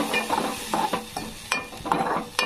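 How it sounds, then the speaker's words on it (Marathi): Ground masala paste being sautéed in oil for a village-style potato curry, with repeated soft stirring scrapes and light sizzling in a close, steady rhythm. "चांगलं परतून घ्यायचंय तेल सुटेपर्यंत"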